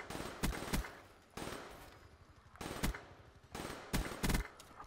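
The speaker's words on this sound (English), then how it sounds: "I just shot like everywhere and I got hit markers everywhere" Bursts of automatic gunfire in the shooter game Black Ops 3, several sharp volleys spaced across the moment, moderately loud with crisp repeated cracks.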